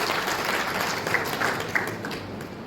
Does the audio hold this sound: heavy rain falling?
no